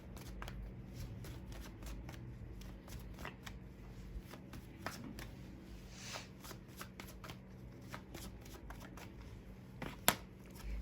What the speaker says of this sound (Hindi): इन कार्ड्स को मैं साइड में लगा देती हूँ ताकि आपको पूरे के पूरे कार्ड्स दिखें